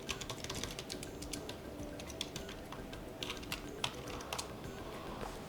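Someone types on a keyboard with a quick, uneven patter of light key clicks that runs through the whole stretch, fairly faint and close by.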